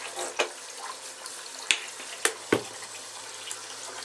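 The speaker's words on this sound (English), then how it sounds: "So you fill the sink with cool water first" Cool water runs from a tap into a sink for soaking knitted work, a faint steady pour broken by a few sharp clinks and splashes, with no talking.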